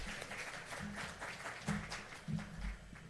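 Steady applause from an audience fills the clip, a dense patter of clapping with a few louder bursts, at a Jamaican Ministry of Finance and the Public Service inaugural event.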